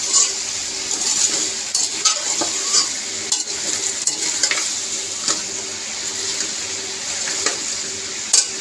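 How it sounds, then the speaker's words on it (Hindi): Garlic ginger paste frying with chicken feet in a pan, a steady crackling sizzle with intermittent stirring scrapes, close and continuous with no talking. "तो लहसुन अदरक को भी साथ में फ्राई कर लेते हैं।"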